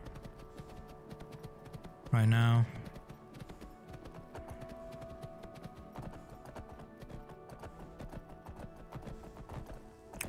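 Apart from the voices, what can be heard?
horse hooves clip-clopping in Skyrim video game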